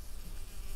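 Steady, close whining buzz of mosquitoes swarming in the jungle survival game Green Hell, continuous and fairly loud with no voices.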